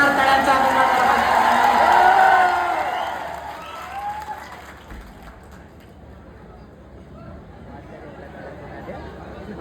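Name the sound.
audience applauding loudly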